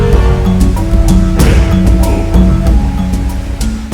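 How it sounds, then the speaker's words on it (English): Rushing water from a triple-drop waterfall in Paruima, a steady loud broadband roar that fills the whole clip, with tonal music layered over it. "This breathtaking triple drop waterfall is one of many beauties that can be found in Paruima."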